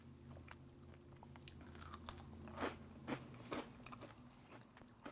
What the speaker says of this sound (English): You can hear the crispy edges